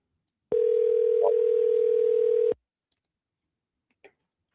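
A single long ringing tone on a phone call sounds clearly for about two seconds, then stops, leaving silence with a few faint clicks.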